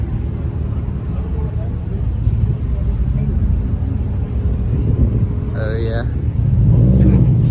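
A BMW E30 fitted with an N54 single-turbo engine rumbles loudly nearby at a night-time street meet, a steady roar with wind buffeting, and a person speaks briefly near the end.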